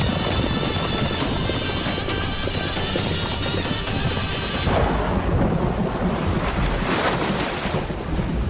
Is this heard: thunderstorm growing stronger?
yes